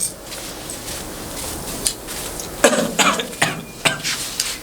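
An elderly man coughs in several short, harsh bursts close by, the coughs bunched in the second half against a quiet room background.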